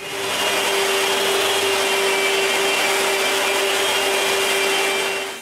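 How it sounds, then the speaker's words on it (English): A power sander works across the top of a moveable wooden workbench, giving a steady, close, loud whirring drone with a faint hum, unbroken for several seconds before easing off. "Then I give it a nice sanding."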